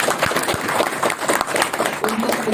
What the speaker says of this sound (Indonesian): Tepuk tangan dulu yang paling luar biasa